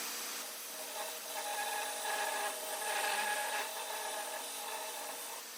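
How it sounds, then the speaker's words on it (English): Hand file scraping a chamfer onto the corner of a metal bar: soft, repeated rasping strokes at a moderate pace, fairly quiet and close, with no talking. "putting a chamfer on this corner of the bar for this locking handle to press against"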